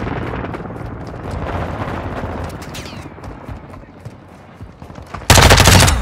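Gunfire in the Shoot House video game, rapid automatic bursts crackling continuously under faint game voice cues, ending in a sudden loud blast of noise.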